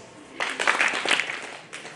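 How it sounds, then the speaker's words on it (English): An audience at a career orientation session claps together, a short burst of hand claps of about a second, followed by a few scattered later claps. "clap once, all of you"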